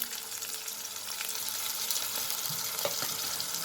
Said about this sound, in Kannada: ಇದು ಬಟಾಣಿನೂ ಸ್ವಲ್ಪ ಫ್ರೈ ಆಗಬೇಕು